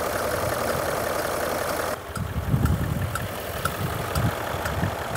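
A 4.4 TDV8 diesel engine in a Range Rover L322 with about 200,000 miles idles with a steady low rumble, close by, and a faint recurring tick from the front of the engine.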